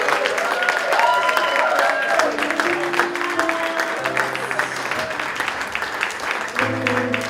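Audience applause at a church gathering rolls on continuously while sustained musical tones play underneath, and voices come through faintly in the mix.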